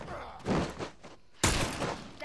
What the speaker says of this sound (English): I just blew his head up with my hunter rifle by executing him